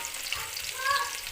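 Onions frying to golden brown in a pan sizzle and crackle steadily at close range in a brief, even burst of frying noise, with no voices.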